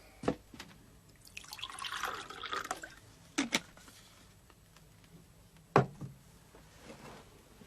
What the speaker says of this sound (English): Pour myself a bit of coffee.